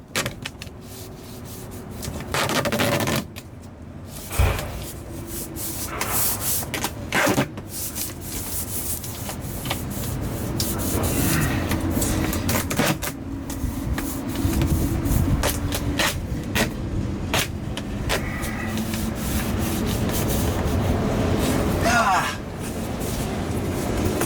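Gorilla Tape pulled and rubbed down along corrugated poly on an RV underbelly: continuous scraping, rubbing and crinkling with sharp rips and thumps, close and fairly loud throughout, while someone talks.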